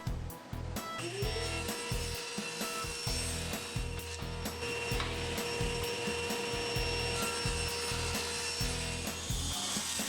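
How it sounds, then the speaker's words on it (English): A saw fitted with a Craig miter gauge set to 45 degrees makes mitered corner cuts in wood for a computer stand base frame. A sustained, close whirring cut with rasping wood grind runs from start to finish. "I set my Craig miter gauge to 45 degrees and mitered all the corners of the base frame"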